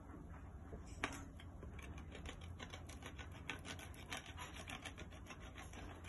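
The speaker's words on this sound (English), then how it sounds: "We're gonna take the crayon and we're gonna shred it on the paper." A crayon is shredded onto paper for a crayon-and-iron art craft, giving a quiet, continuous dry scraping and rasping with small irregular scratches throughout, close by and with no voices.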